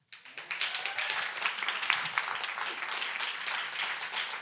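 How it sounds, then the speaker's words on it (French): A church congregation breaks into applause that swells quickly to steady clapping, fairly faint and diffuse. "Est-ce qu'on peut les applaudir"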